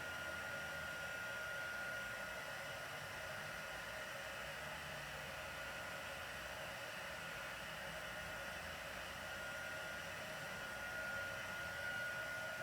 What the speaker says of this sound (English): I'm doing it over here so that you don't have to have the full sound of this heat gun